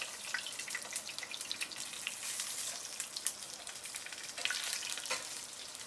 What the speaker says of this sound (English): Make sure that the oil is hot and keep turning the partridges around so that they brown evenly on all sides.